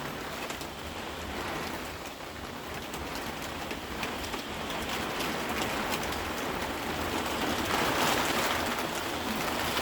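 Rain falls on an allotment plot, a dense, steady hiss of drops on surfaces that swells slightly louder toward the end, close and continuous with no speech.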